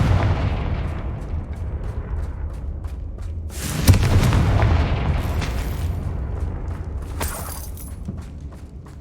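Confringo blasting spells go off in Hogwarts Legacy, a few booming explosions with crackling bursts, one big blast in the middle followed by another near the end over a low rumbling game backdrop.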